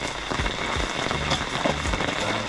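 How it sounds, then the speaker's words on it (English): Rain pattering steadily on a cooking pot outdoors beside a cave river, a dense, close, continuous spatter of drops with no talk. "rain on top of pot today"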